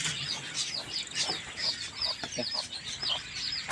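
An Ayam Cemani mother hen clucks repeatedly near newly hatched chicks, with short, close, soft clucks coming in a loose irregular rhythm throughout.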